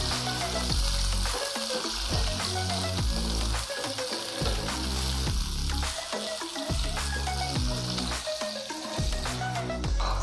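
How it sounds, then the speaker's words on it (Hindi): Diced cubes sauté in a hot pan, a loud, dense sizzle with rhythmic tossing and scraping strokes repeating every second or so, close up and without talk. "इसे हम थोड़ा सा सौते करेंगे।"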